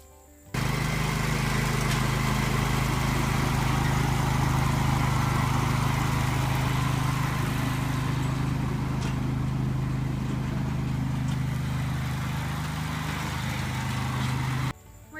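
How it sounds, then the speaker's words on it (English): Tractor engine rumbling steadily nearby as it drives into a chicken coop area during monthly coop cleaning, a constant low drone that holds from start to end, with no talking. "remove part of the electric fence so we can drive the tractor in"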